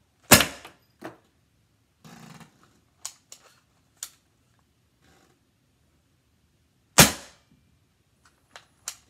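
A paintball gun combined with a Nerf blaster fires indoors: a loud sharp shot, a quieter follow-up, a brief mechanical whir, then scattered clicks before a second loud shot and a few light ticks.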